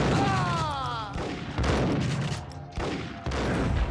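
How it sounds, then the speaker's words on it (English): Dual-wielded pistols firing in the PS2 game Max Payne, a dense run of sharp shots layered with game effects and a brief whistling tone early on, loud and continuous across the scene. "I'm dual wielding, I think. Dual wielding the old pistols."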